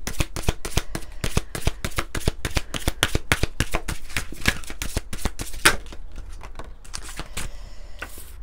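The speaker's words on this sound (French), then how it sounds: "on va prendre quelques cartes de l'oracle à haute vibration" Oracle cards being shuffled by hand, a fast run of crisp, close slapping riffles in steady rhythm, then slower, softer card handling at the end, with no talking.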